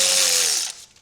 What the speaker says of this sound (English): when something's finger loose, use an impact.